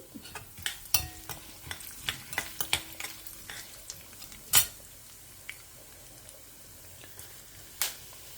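A tempering of asafoetida, cumin, urad dal and chana dal fries in oil under a soft hiss, with a spoon stirring and knocking against the pan in scattered sharp clicks, two of them louder.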